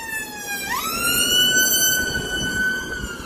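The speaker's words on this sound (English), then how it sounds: "Got ambulance here." An ambulance siren wails loud and near, a steady tone that jumps up in pitch partway through and holds, with traffic rumble underneath.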